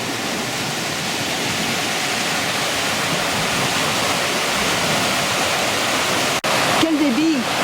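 A river in flood after heavy overnight and morning rain, its muddy water roaring as a loud, continuous close rush, with a voice talking over it near the end.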